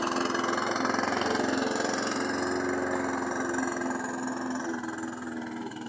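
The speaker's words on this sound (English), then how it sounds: "You can hear the mower struggling a little bit" A lawn mower engine labours as it cuts through longer grass, a steady close mechanical drone with a low pulsing throb that eases slightly toward the end, with no talking.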